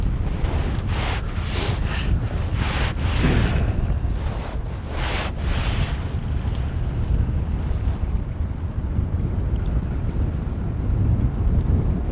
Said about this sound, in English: wind's really picked up since I've been out here